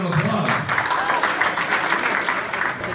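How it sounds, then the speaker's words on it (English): Students applauding at a high school event, steady dense clapping filling the room for the full stretch, with crowd noise and possible voices mixed in. "give yourselves a round of applause."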